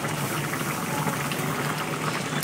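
Fish curry with cauliflower and potato boiling in a pot, a steady dense bubbling and simmering hiss that fills the whole moment without pause, close and fairly loud, no talking.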